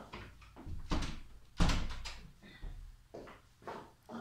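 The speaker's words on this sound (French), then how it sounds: "Je vais fermer la porte." A door closing in a room used as a recording studio, heard as a few close thuds and knocks with one loud impact near the middle, followed by quieter handling sounds.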